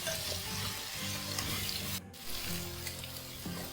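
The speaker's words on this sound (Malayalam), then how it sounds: "നല്ലപോലെ വഴറ്റാൻ വേണ്ടി നമുക്ക് കുറച്ച് ഉപ്പ് കൂടെ ചേർത്തിട്ട് നല്ലപോലെ വഴറ്റി കൊടുക്കാം." Onions sautéing with salt in a pan for a Malabar king fish biriyani, a continuous close sizzle with spatula scraping and stirring throughout, alone.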